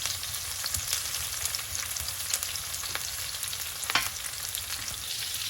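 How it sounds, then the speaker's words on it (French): Onions and bell pepper sweating in a frying pan give a soft, continuous sizzle and hiss, close and fairly quiet, with a faint clink of stirring partway through. "On va faire suer les oignons et le poivron pendant 2 petites minutes."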